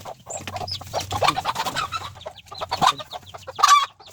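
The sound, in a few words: chicken clucking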